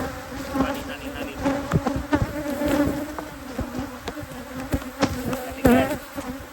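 Honey bees buzzing around an open, defensive hive, many close passes rising and falling in pitch over a steady swarm hum, with sharp bursts as individual bees fly near.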